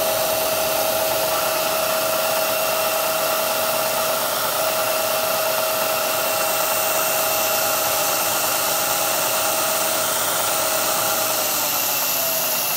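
A CNC machine runs steadily during spot drilling with a small drill bit, giving a constant high-pitched whine and hiss at even loudness throughout with no voices.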